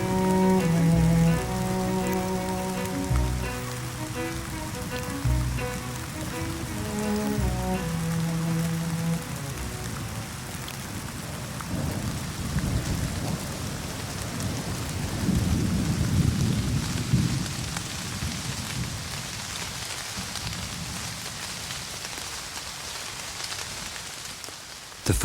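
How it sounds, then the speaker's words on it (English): Heavy rain pours down with rolling thunder rumbling through it, loud and continuous throughout, with low booming swells as the downpour beats on surfaces in open fields where foraging bees are caught outdoors. "Those that remain in the fields face the full force of the rain."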